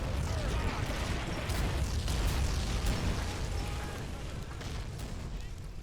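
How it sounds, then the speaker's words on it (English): Mortar shells pound a line of troops in Combat Mission Fortress Italy, a dense, continuous roar of overlapping blasts and rumbling booms that stays loud throughout before easing slightly. "Without warning, enemy mortars hit the left of the line."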